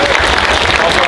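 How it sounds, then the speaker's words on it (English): A convention panel audience at a fan Q&A gives a round of applause, dense, loud clapping filling the room continuously for about a second. "Give yourselves a round of applause"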